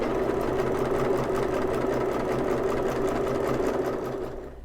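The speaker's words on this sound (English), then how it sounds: "I just pinned my side over here so I can sew it together" A sewing machine stitches steadily through folded fine window fabric, a close, continuous rapid mechanical whirr and clatter that runs several seconds before slowing at the end.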